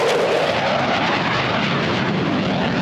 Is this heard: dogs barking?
no